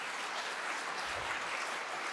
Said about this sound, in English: A final round of applause for our graduates.